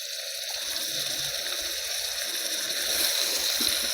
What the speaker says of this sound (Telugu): ఈ వంకాయలు దీనిలోకి వేసేద్దాం ఇప్పుడు